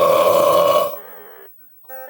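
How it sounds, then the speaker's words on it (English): A loud, drawn-out belch lasts nearly a second, close and strong, then tails off into quieter electronic tones, a short silence and a brief burst of 8-bit game sound. "My burp"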